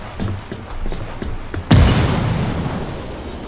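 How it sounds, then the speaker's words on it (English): A frag grenade explodes in Ghost Recon: one sudden loud blast after light ambient rustling, followed by a long rumbling decay. "I guess I could throw a grenade on it."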